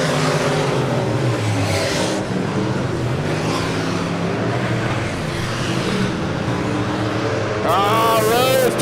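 Super stock race cars lapping Lebanon Midway Speedway in a heat race, their engines roaring steadily as they circle the oval, with a higher whining pass near the end.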